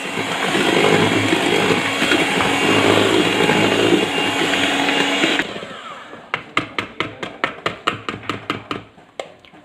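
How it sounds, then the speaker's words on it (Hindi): An electric beater whirs loudly and steadily through brownie batter with vanilla essence for about five seconds, then stops, followed by a run of sharp, evenly spaced taps as the beaters are knocked against the bowl. "अब इसको भी हम ज़रा बीट कर लेंगे इसके अंदर"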